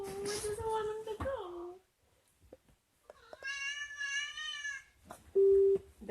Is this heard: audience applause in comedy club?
no